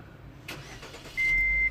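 A Wuling Almaz car is started by keyless push button: a short whirring crank, then the engine catches and settles into a loud, steady idle close by, with no talking.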